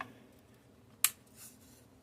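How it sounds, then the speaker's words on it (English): A rocker switch under a model diorama clicks once, a single sharp, close snap that switches on the lights, followed by a faint soft rustle over a quiet room. "I just have to reach under and hit that rocker switch"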